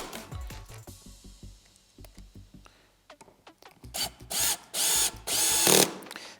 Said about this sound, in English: I'll make sure with the cordless drill that you don't have the torque setting too high